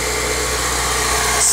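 A 2007 Honda Accord 2.4L engine running steadily at 1500 to 2000 RPM, a close, constant mid-pitched hum with an even vibrating drone and no other sounds.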